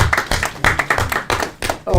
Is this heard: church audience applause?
yes